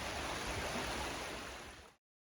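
River flowing past a May long weekend campsite near Chilliwack, a steady broadband rush of moving water heard close and fairly loud, then cutting off abruptly near the end.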